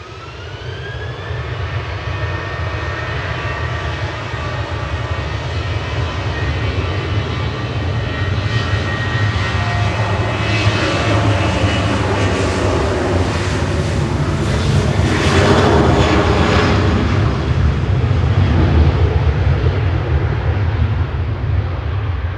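A TUI passenger jet departs Manchester Airport bound for Ibiza, its engines a steady, loud roar throughout that swells slightly toward the middle as the aircraft climbs away.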